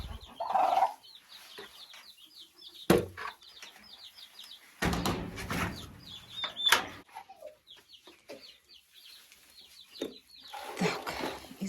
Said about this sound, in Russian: Она так интересно разговаривает с цыплятами.